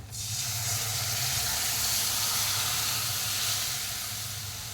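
Strained lentil liquid hits hot spiced tempering for puran poli curry, setting off a loud, sudden sizzle that settles into a steady, bright hiss for several seconds with no voices.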